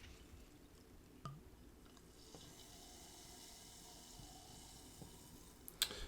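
Dad's vintage root beer poured into a glass, a soft, steady fizzing stream that runs for several seconds, close and quiet, with a few light clicks of glass.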